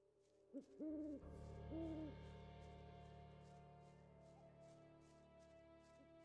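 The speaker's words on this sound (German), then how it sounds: "Alter, das Uhu." Eagle owl in the video game Gothic 2 gives two or three deep, wavering hoots early on, loud and close, over a steady low ambient drone of the game world that continues after the calls fade.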